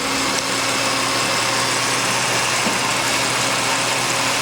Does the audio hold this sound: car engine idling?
yes